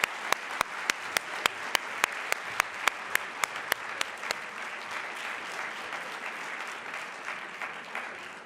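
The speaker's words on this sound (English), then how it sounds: "Please join me in extending a special thanks to our summit team." At a closing ceremony an audience applauds the summit team, opening with a run of sharp, evenly spaced loud claps close by, then settling into a steady, softer wash of crowd clapping.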